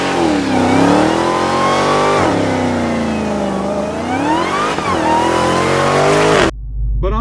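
A 2021 Dodge Charger SRT Hellcat Redeye, 797 hp, roars through a line lock burnout, its engine revving loudly in rising and falling sweeps for several seconds before dropping off sharply at the end.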